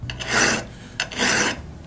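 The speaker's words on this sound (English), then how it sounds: "so I'm going to have to do quite a bit of filing on this one" Two long, rasping strokes of a metal file across the radial cutting edge of a dull auger bit, loud and close, each gritty stroke lasting about half a second with a short pause between.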